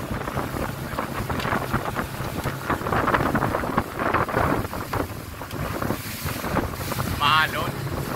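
A speedboat runs fast over choppy water with a steady engine drone, wind buffeting the microphone and slaps of waves against the hull, while people talk and call out over the noise.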